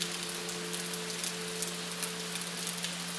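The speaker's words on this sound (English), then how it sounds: "Ambience with soft, steady rain is the main sound." Soft, steady rain falls on a calm Tokyo night, a continuous hiss of fine drops with a low constant hum underneath, evenly textured and unbroken with no voices.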